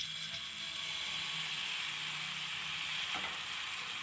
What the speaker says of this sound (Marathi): असं आपण तूप टाकून ना वितळून घेऊया आणि एक मालपो टाकूया